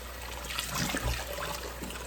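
Tap water runs steadily into a kitchen sink while oxtails are rinsed and cleaned with water and vinegar, a soft continuous trickle and splash close by with no talking.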